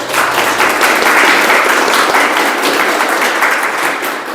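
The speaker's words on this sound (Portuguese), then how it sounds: "Primeiro, eu gostaria de uma salva de palmas para os nossos amigos, o Edu e o Augusto ali no fundo, pela música" Sustained audience applause fills a lecture hall at a spiritist centre in Piracicaba, loud and even for several seconds, with no speech over it.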